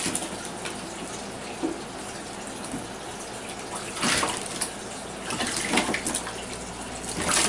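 Water sloshes and splashes in a warm bath as an iguana paddles about, a steady wash of water noise with a few louder splashy bursts partway through.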